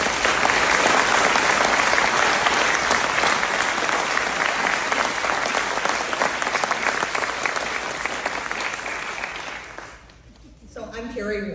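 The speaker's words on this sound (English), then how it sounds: "if we could give them a round of applause" Audience at a city mayoral debate applauding the candidates: dense, sustained applause from a sizeable crowd filling the room for about ten seconds, then fading out as a voice begins speaking.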